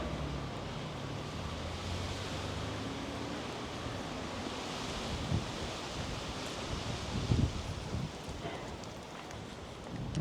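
Steady wind gusts across an outdoor square in the old town of Bukhara, Uzbekistan, a broad, continuous rush with occasional louder buffets against the microphone and no speech.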